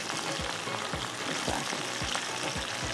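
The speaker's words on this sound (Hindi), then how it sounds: "पहले ये मैं फ़िश के पीसेस को निकालती हूँ जो फ्राई हो चुके हैं यहाँ पर" Pieces of masala-coated Lahori fish frying in hot oil, a dense, steady crackling sizzle with repeated soft bubbling pops, close and loud throughout with no voices.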